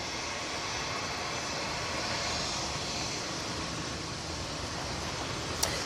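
An easyJet jet lined up for takeoff at Manchester Airport during Storm Floris gives off a steady, distant engine whine and broadband rumble, even and unbroken, with a brief click near the end.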